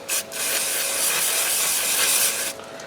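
Close, continuous abrasive scrubbing for about two and a half seconds as the rear brake caliper pad pin of a 2015 Honda CBR650F is cleaned, with no talking.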